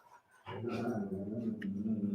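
Dogs indoors at home let out a sustained whining, droning vocal sound after a brief quiet start, close and fairly steady, with no talk over it.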